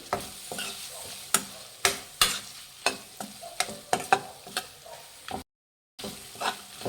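A spoon stirs mutton liver pepper fry in a sizzling pan, military hotel style, with a steady series of scraping strokes over a quiet frying hiss and a brief break near the end.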